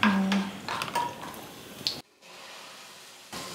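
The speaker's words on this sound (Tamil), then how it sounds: "இந்த பக்கம் பேன்ல முந்திரி திராட்சை வறுத்துக்கலாம்" Cashews and raisins roasting in ghee in a pan, with a few soft clinks and scraping stirs, a brief sizzle and drip-like patter, then a quieter hiss after a short silence.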